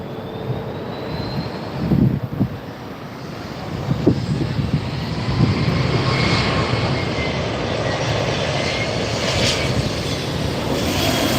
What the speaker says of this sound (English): From Sacramento, a SkyWest Delta Connection Flight 3759. This is an E-Jet, an Embraer